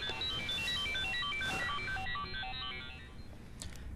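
A mobile phone ringtone plays a bright, repeating melodic pattern for about two seconds, fairly loud, then stops, leaving faint background sound.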